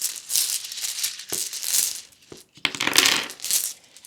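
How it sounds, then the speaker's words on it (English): Rune stones rattle and clink together as they are drawn by hand, coming in several short bursts of clicking across a few seconds with no speech. "Let's draw your runes."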